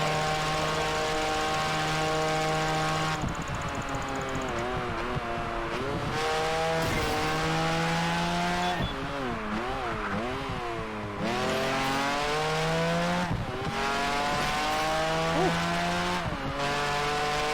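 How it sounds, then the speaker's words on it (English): Race cars in Project Gotham Racing 4 whine and roar through continuous revving engines, with gear shifts and repeated pitch sweeps rising and falling under steady, loud in-game sound and no talk. "cars in this game sound bad."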